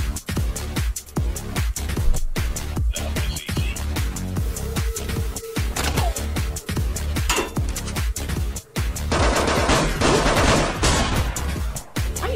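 Animated gunfire crackles in rapid bursts, sharp cracks repeating in quick volleys over about twelve seconds, fairly loud, with a denser stretch of fire near the end.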